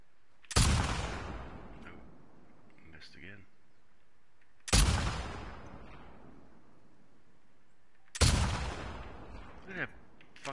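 Three loud, sharp rifle gunshots from The Last of Us Part II, each a sudden blast spaced a few seconds apart with a decaying tail and faint echo between.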